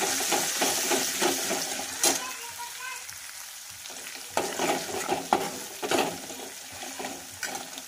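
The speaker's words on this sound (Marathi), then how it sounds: "तरी छानपैकी असं फ्राय करून घेऊया।" Ginger and garlic paste sizzles and fries in hot oil for dal shevga, a steady close crackle broken by spoon scrapes and stirring clatter, with no talking.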